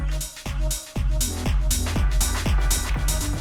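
A repeating electronic beat on a Pioneer DJ XDJ-RR with the echo effect on channel 1, each hit trailing off in quick echoing repeats, rhythmic and loud, no voices.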